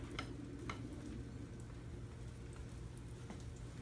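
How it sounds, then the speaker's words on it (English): Quiet, steady sizzling of a hot dog frying in a pan, with a few faint clinks of utensils scattered over the crackle. "Frying my hot dog."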